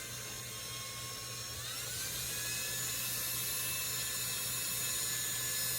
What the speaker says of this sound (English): There's a dull drill bit.